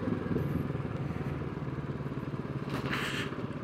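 A motorcycle ridden along scenic roads in Italy toward a lookout point, giving a steady, rumbling engine drone with rhythmic pulsing throughout and a brief rise in hiss near the end, close and continuous with no talk.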